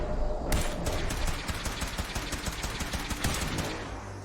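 Video game gunfire in a shootout at Gunner's Plaza, a dense rapid volley of close, loud shots rattling steadily for about three seconds.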